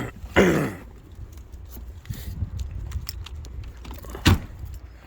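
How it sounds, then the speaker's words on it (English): A bunch of car keys jangles near a VW Golf as it is unlocked, with a sharp close rattle at the start and a second brief clink near the end over low background rumble. "Oh, just unlock my car."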